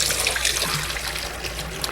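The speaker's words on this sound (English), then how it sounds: "Drain off all that soaking water." Soaking water from overnight-soaked chickpeas pours and splashes steadily into a kitchen sink as they are drained, a continuous close watery rush with no voices.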